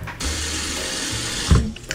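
Tap water gushes steadily into a cooking pot, being filled for boiling pasta, loud and close for nearly two seconds, then a brief clunk as the flow stops.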